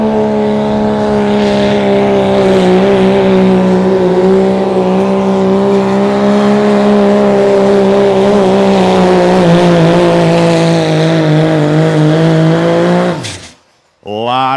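A diesel 4x4 Chevrolet pickup pulls a sled in an outlaw pulling event, its engine droning loud and close for a long sustained stretch before cutting off abruptly near the end.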